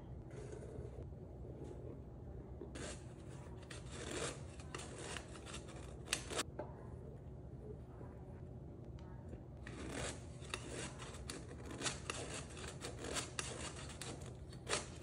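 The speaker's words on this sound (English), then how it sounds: "we're gonna go ahead and sift our flour into another bowl" All-purpose flour, four cups of it, is sifted through a metal sifter into another bowl for milk bread dough, giving a steady dry rasping, squeaking crank noise in bursts, close and fairly quiet, with no talking.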